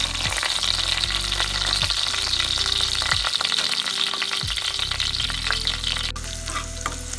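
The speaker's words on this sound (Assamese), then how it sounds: "তেল গৰম হোৱাত ইয়াত দি দিম তেজপাত এটা আৰু যিখিনি পিয়াজ কাটি থৈছিলোঁ এই গোটেইখিনি।" A bay leaf and chopped onions fry in hot oil for a banana flower curry with fish head, giving a loud, dense, continuous sizzle with stirring noises, heard close and without talk.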